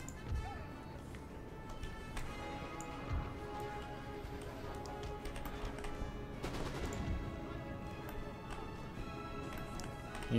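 Musket volleys from infantry in Napoleon Total War, a faint, distant crackle of scattered shots and sharp reports over a steady battlefield ambience, with occasional louder pops.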